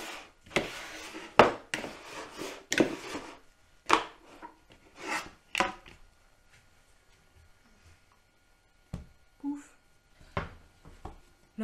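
Bread dough for a homemade French loaf worked and folded by hand, giving a series of soft slapping and rubbing bursts at a steady rhythm, close up, with quieter pauses between them.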